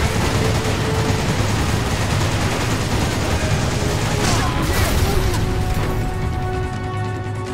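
Gunfire in the Resident Evil 5 video game: dense, continuous shooting and crashing effects fill the scene at steady loudness, with a heavier burst of impacts midway.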